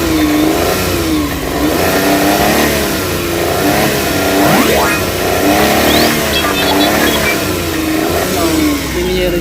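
A Suzuki F6A fuel-injected engine revs loudly and close by, rising and falling in repeated bursts of acceleration.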